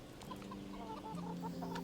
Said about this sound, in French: Ouais, il y a des poules.